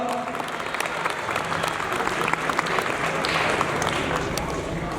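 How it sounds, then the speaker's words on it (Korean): Crowd applause at a taekwondo tournament ceremony in Yangpyeong, a dense continuous wash of clapping from a large audience filling the space, with some background voices and hall noise mixed in. "한 박수 부탁드리겠습니다."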